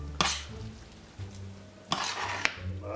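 Flaked canned tuna being stirred in a pot for a homemade tuna noodle casserole, with a few sharp utensil knocks against the pot over a soft background sizzle and no talking.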